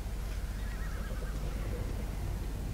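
A level-42 horse in ARK: Survival Evolved on the Ragnarok map whinnies in a long, wavering neigh, close and fairly loud, with some hoof clatter beneath it and no talking.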